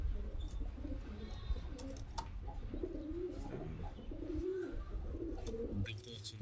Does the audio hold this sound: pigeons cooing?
yes